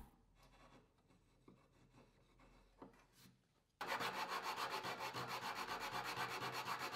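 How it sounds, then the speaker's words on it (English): A sharp chisel scraping dried glue off a wooden joint, with quiet, intermittent rubbing strokes at first, then a louder, steady rasping scrape that continues to the end. "The dried glue can be removed very easily with a sharp chisel."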